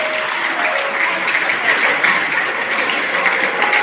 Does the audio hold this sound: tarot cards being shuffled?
no